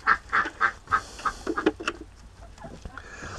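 A duck honks in a rapid series of loud, nasal calls at close range, trailing off into softer squawks, with no talk over it.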